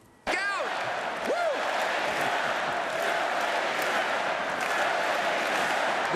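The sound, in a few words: cheering, applauding crowd at a rally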